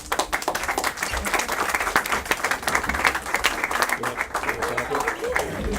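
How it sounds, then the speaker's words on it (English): Sustained applause from a press conference audience on chronic absenteeism, honoring young people: dense, steady clapping from many hands, close and full throughout, with a few voices mixed in. "Let's give them a round of applause."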